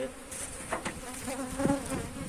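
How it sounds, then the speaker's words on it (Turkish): Dense, steady buzzing of many honey bees at a hive about to swarm, close and continuous with brief louder swells, no talking. "Şimdi ben buna müdahale etmezsem bu arı tekrar dışarıya oğul verecek."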